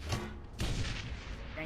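Mini grenade launcher firing in Shadowrun: Hong Kong, two muffled booming blasts about half a second apart, moderately loud, with no talk over them.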